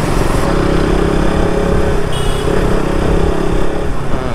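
A KTM RC 200 motorcycle engine runs loud and close for the whole stretch, a steady throbbing roar with slight rises in revs as the bike pulls away, and no voices over it.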